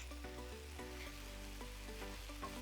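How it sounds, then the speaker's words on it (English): Turmeric, garam masala, coriander powder and Kashmiri chili powder sauté with ginger garlic paste and green chilies in a pan for a one-pot egg curry, giving a soft, steady sizzle with no voices. "The raw flavor of all that masala needs to be sauteed well along with our ginger garlic paste"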